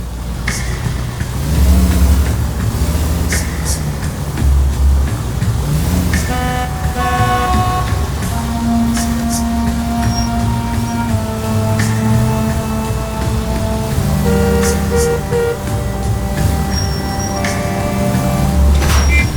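A car in L.A. Noire driven recklessly, engine droning loud and steady throughout while horns honk and toot repeatedly from surrounding traffic.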